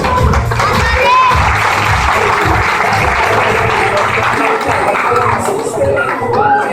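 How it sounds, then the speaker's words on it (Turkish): Guests at an Islamic wedding reception clap as the bride and groom are brought to their table, loud continuous crowd applause with cheering and chatter, and background music or voices running underneath. "Evet, kuvvetli bir alkış alabilir miyiz?"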